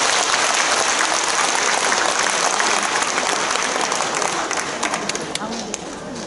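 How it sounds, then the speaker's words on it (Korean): Big audience applause at a school entrance ceremony for adult learners at a girls' middle and high school, sustained loud clapping from a crowd that fades slightly toward the end. "큰 박수로 격려해 주시기 바랍니다."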